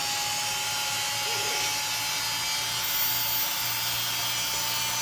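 Studer A827 tape machine rewinding a 2-inch tape reel, giving a steady, close, high whirring whine that holds evenly throughout.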